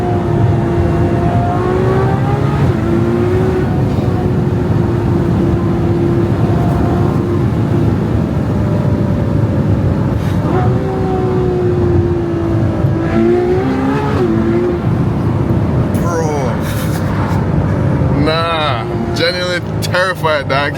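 Ferrari 812 Superfast engine revving and dropping through downshifts under engine braking, rising and falling pitch sweeps over a constant loud cabin drone, with sharp blips near the end and someone talking over it.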